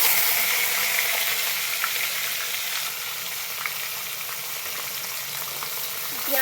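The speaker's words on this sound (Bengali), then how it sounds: "পেঁয়াজটাকে সুন্দর করে ভেজে নেব" Chopped onions frying in hot oil in a kadai, a continuous bright sizzle with occasional small crackles, close and steady, and no talk.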